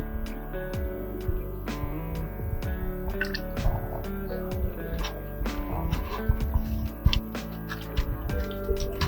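Melted Nature Wax C6 candle wax pours into containers, a close run of small liquid drips and splashes with a soft gurgling flow over about nine seconds, no talking.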